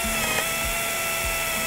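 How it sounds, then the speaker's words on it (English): A power drill boring pilot holes in a barn wall whirs steadily and loudly throughout, with a faint rhythmic clicking underneath. "so I'm gonna drill a couple of pilot holes first"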